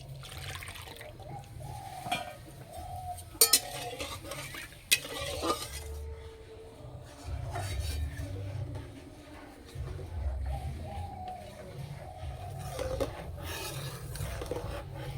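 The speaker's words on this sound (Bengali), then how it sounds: "এবার দুধটাকে ক্ষীর মেরে নেব।" Thickened milk being turned into kheer is stirred and scraped in a pan, with wet, sticky scraping strokes, occasional sharp clinks of the spoon against the metal, and low rumbling underneath.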